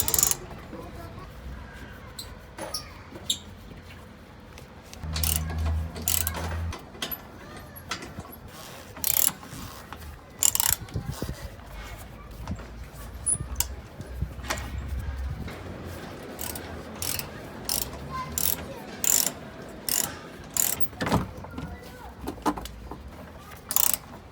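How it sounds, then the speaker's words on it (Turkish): A socket wrench ratchet loosens the bolts holding a car's plastic oil pan guard, with bursts of sharp, close clicks and taps scattered through the clip and some low handling knocks. "Karter muhafaza plastiğini lokma takımı kullanarak sökeceğim."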